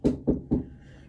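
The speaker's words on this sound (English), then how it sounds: "Somebody finna knock on my door." Three quick, solid knocks on a door in an even rhythm, close and fairly loud, followed by a brief room tail.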